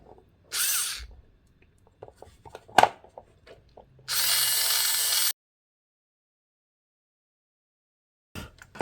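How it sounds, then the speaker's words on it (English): A small handheld drill bores a hole through a cured epoxy resin geode board, two short whirring bursts separated by scattered clicks and handling taps, then silence before a faint tail of noise. "So I bought a baby drill specifically for stuff like this."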